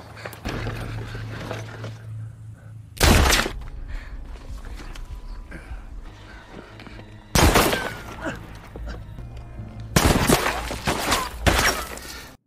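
Sharp, loud bursts of gunfire ring out in a film shootout, coming in several separate volleys between quieter stretches of background sound.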